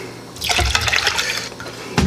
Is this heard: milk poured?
yes